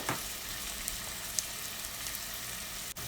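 Green chilies and crushed ginger sautéing in a pan for a Kerala-style mushroom curry, a steady close hiss of frying oil with a few faint stirring knocks.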